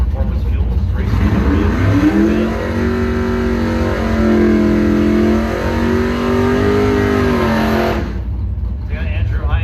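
Dragster race car at a Mopars Against the World bracket drag race, engine roaring loud and steady for several seconds with rising pitch, then cutting off, with a voice talking over it.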